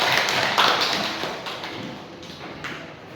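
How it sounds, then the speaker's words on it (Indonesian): Students in a vocational marketing classroom clap their hands together, a brisk burst of applause that fades over a few seconds with faint voices in the room. "tepuk tangan buat Ayah"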